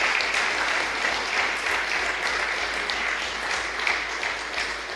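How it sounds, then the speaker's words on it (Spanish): A large audience at a Senate education event applauds Senate president Carlos Montes with thick, sustained clapping, an even roar of hands that never breaks across several seconds. "Quiero pedirles que los recibamos con un fuerte aplauso al presidente del Senado,"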